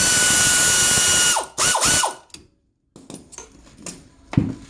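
A ratchet loosening a brake caliper bolt on a Mazda 6 gives a loud, close, fast clicking run, then a few shorter bursts, followed by silence and light metallic handling taps.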